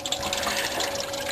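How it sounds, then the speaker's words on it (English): Coolant water drains out of the radiator of an overheating 1965 Ford Mustang GT, making a steady, close splashing trickle that continues without a break. "So the water is almost drained out."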